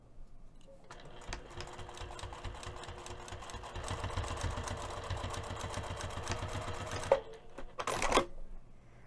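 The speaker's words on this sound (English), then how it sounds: "we're going to be sewing this just between the two markings using a quarter of an inch seam allowance" A sewing machine runs steadily, stitching a quarter-inch seam on a zipper pouch with a lace zipper, its fast mechanical chatter close and continuous for several seconds before stopping, then a brief final burst.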